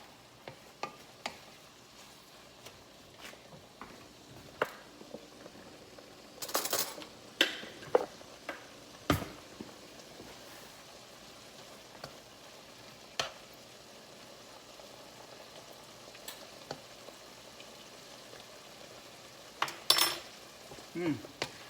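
Cooked meat and onions mixed in a pan: sparse, fairly quiet clinks and scrapes of a utensil against the metal over a soft low sizzle, with a few sharper knocks spaced irregularly.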